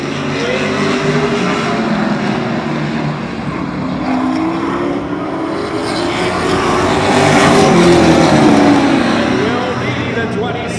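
Race cars circle the Oyster Bed Speedway oval, making a continuous loud roar of engines that rises and falls as the cars pass.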